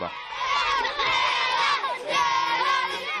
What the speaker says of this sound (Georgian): ზავის მიღწევას ომისგან განადგურებულ ქუჩებში ზეიმი და ოვაციები მოჰყვა